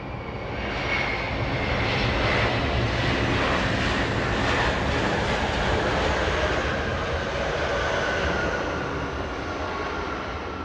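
A Lufthansa Airbus A340-600 departs north toward Munich, its four engines producing a loud, sustained roar with a high whine that holds steady throughout.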